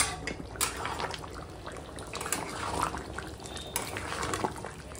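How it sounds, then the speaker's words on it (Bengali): Meat and fried potatoes simmer in water in a cooking pot, giving a steady soft bubbling hiss with occasional clinks of a utensil against the pot, close and moderately quiet. "এখন এই ভাজা আলুগুলো দিয়ে দিলাম, দিয়ে মাংসের সঙ্গে একসঙ্গে আর একটু জল দেবো, দিয়ে এখন সিদ্ধ হবে"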